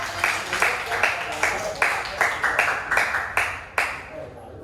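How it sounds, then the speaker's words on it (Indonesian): A classroom group claps in unison, about a dozen sharp, evenly spaced claps in a steady rhythmic pattern, close and clear against a quiet room. "Pintar, tepuk tangan Bapak."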